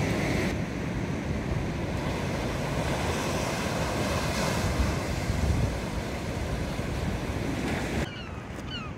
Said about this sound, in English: I was not expecting waves like this.